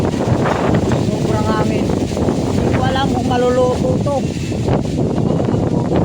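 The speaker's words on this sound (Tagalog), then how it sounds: "Medyo mahangin ngayon dito." Strong outdoor wind roars steadily against the microphone while a sinigang-style dish is being cooked, a constant loud rush running under close conversational talk.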